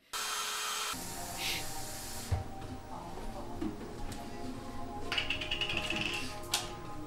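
A cheap hotel hair dryer blows in a steady, loud broadband whoosh that starts abruptly and runs throughout, with music and some tapping or handling sounds layered over it.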